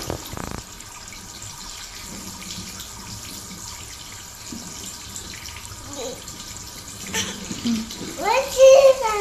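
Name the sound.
water running while washing eyes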